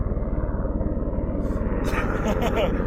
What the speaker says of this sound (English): the mountain rescue helicopter's basically flying over us in a minute.